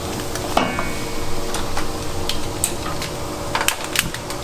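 Hot oil poured over a ladle of chili flakes to make Chinese-style chili oil, giving a steady close sizzle and crackle with sharp clicks and pops scattered throughout, no talk.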